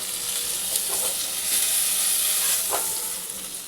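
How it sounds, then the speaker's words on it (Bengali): Pomfret fish frying in a pan, a steady close sizzle with bright hissing crackle that holds at an even level throughout, no voices present. "এটা ভেজে নিই ভালো করে।"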